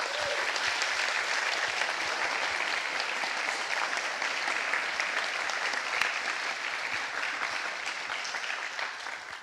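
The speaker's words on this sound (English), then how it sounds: "another round of applause for also our AV team" Steady, dense clapping from a conference audience at GUADEC, thanking the AV team, filling the room evenly for the whole stretch without letting up.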